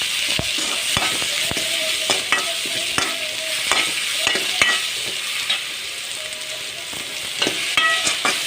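Capsicum sautéing in a pan, stirred often, with a soft continuous sizzle broken by sharp scraping strokes of the spatula; close and clear, with no voices.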